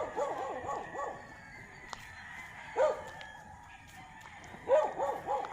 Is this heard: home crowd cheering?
no